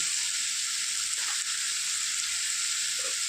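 Curry leaves sautéing with vermicelli upma in a pan, a steady bright hissing sizzle throughout with a couple of brief stirring knocks.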